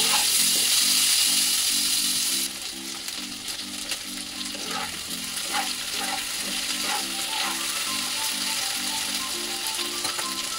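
Potatoes and onions sizzle steadily in hot oil with dried red chilli while being stirred, as a base for a light rohu fish curry with ridge gourd. A continuous close frying hiss with a low tonal hum beneath.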